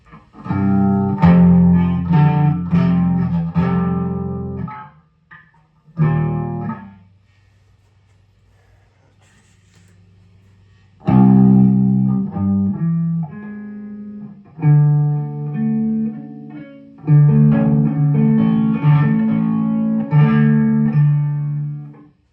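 Electric guitar played through a Bugera or Marshall half stack on the crunch channel with gain raised, a slightly crunchy, driven tone, strummed chords ringing out, pausing, then resuming with riffs.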